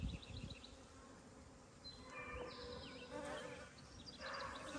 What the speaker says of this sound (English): So many bees. This is incredible.